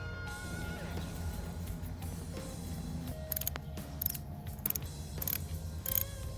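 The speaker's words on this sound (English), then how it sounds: "Now it's time to put the sump plug back in." Metal tool work on the sump plug of a KX250F motorcycle engine: a steady mechanical ratcheting hum with sharp clicks and clanks that grow brisker toward the end, close by, with no talk.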